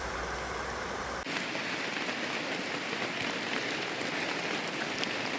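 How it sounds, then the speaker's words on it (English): Steady rain falls at a Vancouver Island campsite, a dense, even hiss of drops pattering on surfaces throughout, with a brief muffled bump near the start and no voices. "And immediately brought the rain back."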